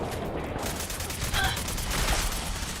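Gunfire in the video game Fallout 4: a dense, steady clatter of rapid shots runs through the whole stretch at even loudness, with no pauses.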